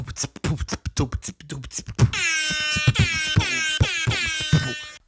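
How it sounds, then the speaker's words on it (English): Brief speech gives way to a loud, blaring air horn sounding in several repeated rhythmic blasts, harsh and brassy, filling the rest of the clip. "The rap air horn is one of my favorites."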